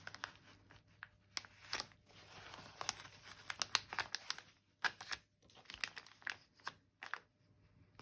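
A paper envelope crinkling and rustling up close while acrylic stamps are organized, with irregular crackly bursts and short pauses, fairly quiet with no talking.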